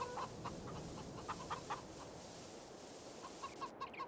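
Chickens cluck in short repeated bursts near a chicken coop on a farm in Farming Simulator 22, fairly faint over a steady ambient background.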